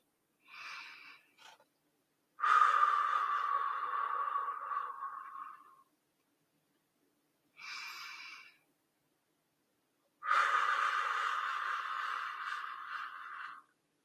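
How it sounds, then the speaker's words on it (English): Slow, deep meditative breathing up close in a quiet room: two full cycles, each a short airy inhale followed by a long, steady exhale, with no talking. "Breathing in, breathing out."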